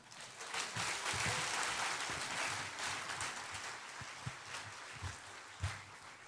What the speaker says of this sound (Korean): 나오실 때 한영의 박수와 격려와 응원의 큰 박수 부탁드립니다